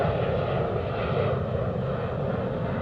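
A jet airliner taxis out at DFW airport, heard as a steady, loud engine roar with a broad rumble throughout and no talking.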